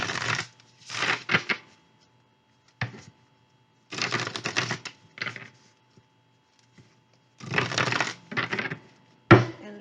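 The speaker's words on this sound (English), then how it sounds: "Give it a little shuffle." A tarot card deck being shuffled in several quick riffling bursts separated by short pauses, close and fairly crisp, with a sharper knock of the cards at the end.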